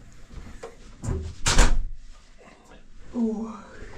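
An adjoining door between hotel rooms at a Hotel InterContinental opens and shuts with a thud midway, with a few smaller clicks and bumps nearby and voices chatting quietly around it.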